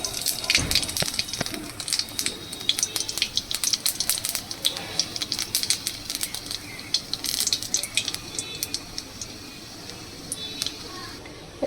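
Black cumin seeds and a dried red chilli crackle and spit in hot oil, a dense run of sharp pops and sizzles over a faint background hiss, close and fairly quiet.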